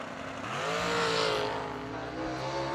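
Drag racing car leaving the line at a fall drag event, its engine roaring and rising in pitch as it pulls away, sounding rough and strained, loud and alone with no talk.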